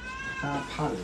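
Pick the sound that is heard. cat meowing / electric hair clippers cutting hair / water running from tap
cat meowing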